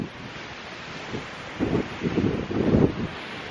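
Strong wind buffets the microphone in rumbling low gusts that swell louder toward the end, on an exposed hillside in the English Peak District, with no voices.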